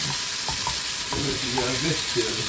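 Chicken and vegetables fry in a pan for wraps, giving a continuous close sizzle with scattered stirring clatter and scraping from a utensil.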